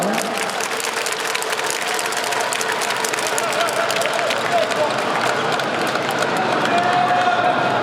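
A basketball arena crowd applauds a player's strong defensive play during a KT Sonicboom game, with steady, dense clapping and cheering throughout and a voice over the arena sound.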